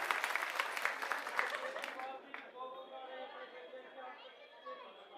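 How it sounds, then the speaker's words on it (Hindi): Audience applause at a political rally in India, a burst of clapping and crowd chatter that fades after about two seconds, leaving a distant voice over a public address system. "इनके लिए ताली बजाओ"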